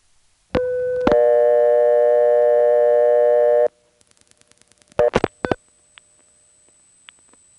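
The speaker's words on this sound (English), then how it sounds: "you'll hear the Greenville NX1 connecting to the operator board." Clicks, then a steady harmonic tone and a sustained high beep, with later relay-like clicks and chatter on a 1977 Greenville NX1 telephone exchange line in Farmville, North Carolina, as it connects through to the operator board.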